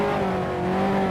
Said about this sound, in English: I've got this big engine in front of me.